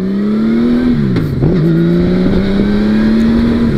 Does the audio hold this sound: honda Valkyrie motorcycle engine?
yes